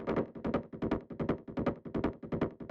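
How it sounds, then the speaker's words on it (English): Hard techno kick top loop run through amp and delay, a fast galloping pattern of punchy percussive hits in uneven pairs, dense and steady, fairly quiet and alone. "if you just listen to the kick top loop"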